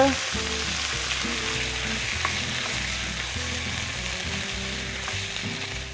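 Sauce for osso bucco sizzling steadily in a pan, a continuous close frying hiss with faint stirring and soft clinks throughout.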